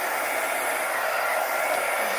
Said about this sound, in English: another thing you can use on this is hair dryer